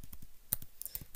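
Keys tapped on a computer keyboard while typing a search, a quick run of light, evenly spaced clicks heard close and alone.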